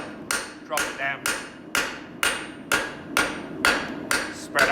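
Hammer tapping a heated rivet to spread its head, about ten sharp, evenly spaced metallic strikes, close and loud, over a steady background hum.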